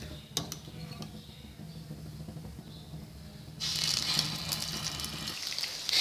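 Beef shami kebabs fry in hot oil in a pan, a soft steady sizzle with scattered clicks that swells louder and brighter partway through and continues to the end.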